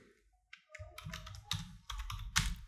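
Keys clatter on a computer keyboard in quick bursts of typing, close and fairly quiet, with short pauses between groups of taps.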